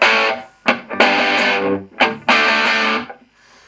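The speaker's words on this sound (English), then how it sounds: "And that's my like 80s sort of guitar sound done." Loud distorted electric guitar with an 80s rock tone, playing sustained crunchy chords in three strummed hits with short gaps between.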